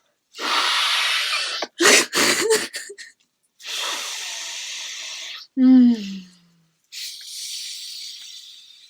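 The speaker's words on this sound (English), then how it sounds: "Inhale so loudly into whatever you're breathing that you can hear your inhale." Loud, deep inhales and exhales close to the mic, several long breathy rushes separated by pauses, with a short voiced sound in the middle.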